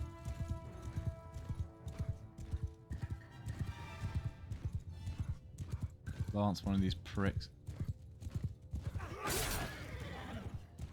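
Cavalry horses in Mount & Blade II Bannerlord clop along in quick rhythmic hoofbeats, with a whinny and clattering battle noise, as someone talks over the action.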